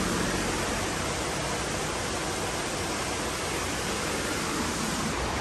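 Creek water rushing steadily beside a walkway, a dense, continuous broadband roar that stays loud and unchanging throughout, with no voices.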